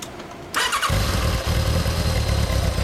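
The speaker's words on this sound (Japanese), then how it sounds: "あなたのエンジン音聞かせてもらえますか？" A 1998 Kawasaki ZRX1100 motorcycle engine catches after a short starter whir and settles into a loud, close, throbbing idle.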